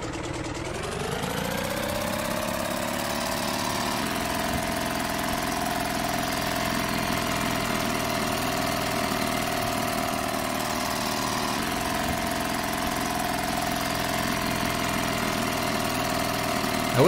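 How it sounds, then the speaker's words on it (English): Small motorboat engine in the video game Martha is Dead: a loud, steady buzzing drone that revs up at the start, then holds a constant pitch for a long stretch with a slight shift partway through. "It's a very loud engine."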